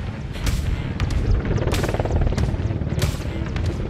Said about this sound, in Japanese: まもなく岸田文雄内閣総理大臣を乗せた海上自衛隊の掃海輸送ヘリコプター MCH-101 が着艦します。